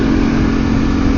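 Harley-Davidson Pan America motorcycle engine running at speed, a steady loud drone mixed with constant wind rush, continuous throughout without a break.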